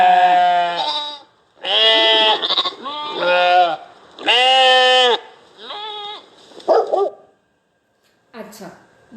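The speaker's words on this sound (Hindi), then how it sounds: "क्या आप भेड़ की आवाज सुनना चाहते हो? चलो सुनते हैं भेड़ की आवाज।" Sheep bleating in a run of wavering, nasal calls, about six loud bleats separated by short pauses, close and clear with nothing else around them.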